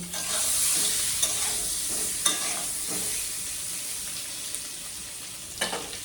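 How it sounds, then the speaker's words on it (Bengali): Spices sautéing in a hot pan hiss in a steady, close sizzle, with occasional scrapes and clinks of a stirring spoon against the metal throughout. "ওই যে সমস্ত মশলা দিয়ে কষিয়ে নিচ্ছি"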